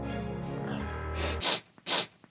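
A couple of sharp, breathy sniffs from someone with a seasonal cold follow a low hum, two quick nasal inhales close to the microphone.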